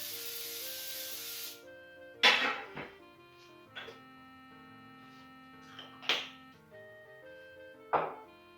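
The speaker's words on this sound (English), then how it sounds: "Pam olive oil spray. And I give it a pretty liberal spray." Short bursts of Pam olive oil cooking spray hissing onto a pizza pan, four separate sprays spaced a second or two apart, each a sharp airy hiss that quickly fades, close and clear with no talking.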